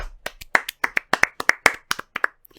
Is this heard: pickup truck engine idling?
no